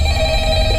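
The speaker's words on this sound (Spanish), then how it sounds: "Suena el teléfono." A telephone rings briefly in the Five Nights at Freddy's video game, a short electronic bell tone, loud and close, lasting under a second.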